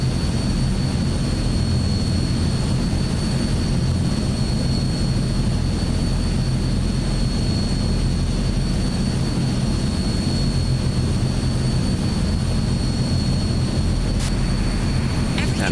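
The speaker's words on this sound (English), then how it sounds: "starting up engine 2" Azurpoly C-160 transport aircraft engine 2 spinning up in Microsoft Flight Simulator 2024, a steady loud broadband roar with a constant whine that holds for the whole stretch, with rain in the background.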